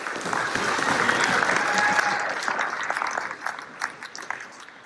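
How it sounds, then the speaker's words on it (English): A crowd at a youth football end-of-year awards ceremony applauds the concession volunteers, a dense, sustained burst of clapping that gradually thins and fades into scattered claps. "Big round of applause."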